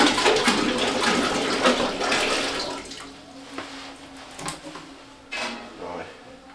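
Water from a tap runs and splashes into a pot inside a rental cabin in Hossa National Park. The flow is loud at first, then fades into quieter trickles and clunks.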